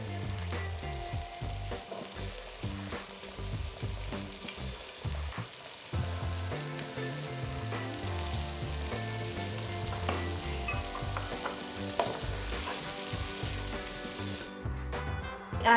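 Potatoes fry in oil in a pan while being browned with pilau spice, a close, steady sizzle with occasional stirring clinks and scrapes.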